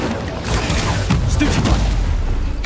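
Incendio fire spell cast in Hogwarts Legacy on PS5, heard as a steady rumbling boom with crackling bursts through a loud combat din, ending in a sharp impact.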